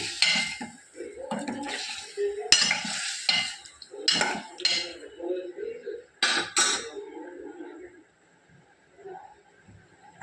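Chicken and chili powder sizzle and scrape in a pan as a utensil stirs them, with clinks and brief voice sounds, then fading to quieter frying.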